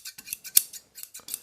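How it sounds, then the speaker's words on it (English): Scissor blades snipping shut repeatedly after sharpening, a rapid series of crisp metallic clicks and rasps in an irregular rhythm, close and clear with no talk. "once you close the scissors"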